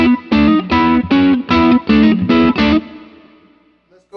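Electric guitar through a Fender Bassbreaker 15 amp with reverb set around eleven o'clock, playing a rhythmic phrase of roughly eight crunchy chord stabs, loud and up front, followed by a fading reverb tail.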